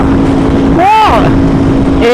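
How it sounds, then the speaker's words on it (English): An Aprilia RSV4 RF motorcycle runs with a loud exhaust roar that is steady and close, with a brief rising whine partway through and voices talking over it. "is that is just such a loud exhaust"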